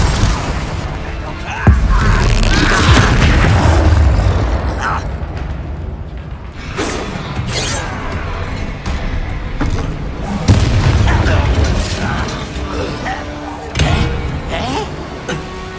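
Confringo fire spells blast repeatedly in a Hogwarts Legacy duel, a chain of loud booming explosions and impacts spread across the span, mixed with clattering combat effects and occasional voices.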